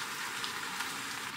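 Homemade jjajang sauce with plenty of meat stir-fries in a pan while camping in a tent, a steady close sizzle without talk.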